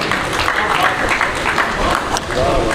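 An audience at an Urdu poetry recital gives a round of applause, a close, dense patter of clapping mixed with talk and murmurs.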